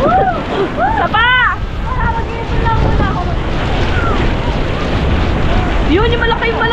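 Loud roar of wind and crashing waves against a boat, with excited shouting and whooping voices over the rush of water.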